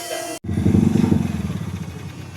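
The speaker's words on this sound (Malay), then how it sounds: "Ini enjin Lifan ni." A motorcycle fitted with a Lifan engine in a Honda-marked casing runs close by with a steady, throbbing low rumble after a brief sharp cutoff, idling and blipping at a riders' convoy stop.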